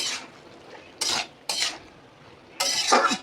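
Poppy seed paste with potato and ridge gourd stirred in a pan: several separate bursts of spoon scraping and clinking against metal, with quiet gaps between them.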